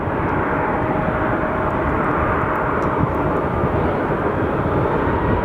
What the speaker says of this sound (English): Crazy to think this plane's like 3 miles out and I'm still tracking it.